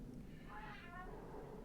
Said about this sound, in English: I have like several cats, and sometimes they get along and sometimes they just don't.